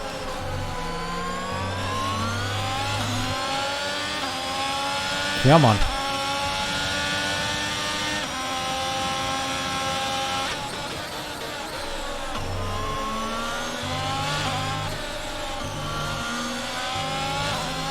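Formula 1 race car engines at Imola in F1 22, a high-pitched whine rising and falling through gear shifts, loud and steady with a brief passing surge, while a voice speaks briefly.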